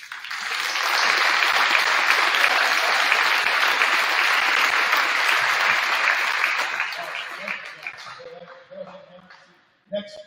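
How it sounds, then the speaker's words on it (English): An audience at a school awards night for grades 7 to 12 claps in a long, loud round of applause that builds quickly, holds steady for several seconds, then fades out into scattered claps and a few voices. "everybody should give them a round of applause"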